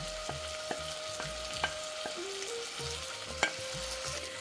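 Marinated paneer gravy with tomato sizzles softly in a pan, with a few spoon scrapes and clicks during stirring over quiet background music.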